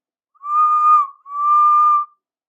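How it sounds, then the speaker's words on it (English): Two clear steam engine whistle blasts sound one after the other, steady and tonal, each lasting under a second in otherwise quiet surroundings. "Just then they heard a whistle."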